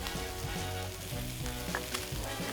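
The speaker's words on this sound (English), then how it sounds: "We have our onions and garlic in the pan." Onions and garlic sizzle in oil in a pan over medium-high heat, a steady close crackling hiss with occasional faint pops and stirring taps.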